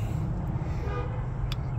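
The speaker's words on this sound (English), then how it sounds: "And now it's going to honk twice, letting you know that everything has been set." A 2007-2013 Chevy Tahoe gives two short horn toots after a tire pressure sensor relearn, heard a little distant over a steady background hum.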